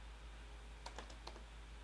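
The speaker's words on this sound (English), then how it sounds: "I'm going to type in something." A handful of light, quick computer keyboard keystrokes tapped alone in a quiet room, a short cluster followed by a couple more clicks.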